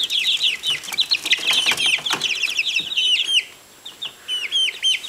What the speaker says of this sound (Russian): Отделяла я петухов от курочек.